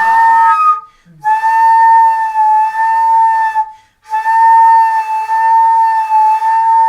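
A daegeum, the Korean bamboo flute, plays low sustained notes, three long tones separated by short gaps, one breaking into a brief squeak, clear and close with no talk.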